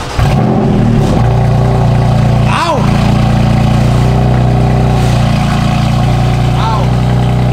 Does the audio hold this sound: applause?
no